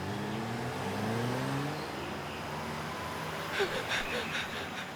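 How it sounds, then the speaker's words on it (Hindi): Car engine revving nearby, a rising mechanical drone that fades, followed by a few brief higher-pitched noises near the end. "गाड़ी की आवाज।"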